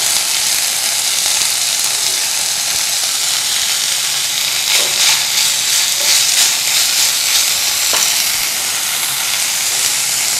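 Shredded chicken dropped into a hot pan with garlic gives a loud, steady hissing sizzle that fills the whole stretch close up, with small crackling spikes partway through and no talk.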